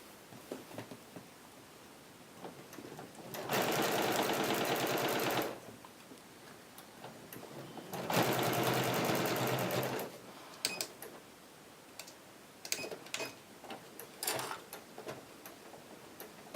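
A sewing machine stitches around the bottom of a fabric nesting basket in two loud, steady bursts of rapid, rattling stitching, each lasting about two seconds, with quieter clicks and handling noises between them.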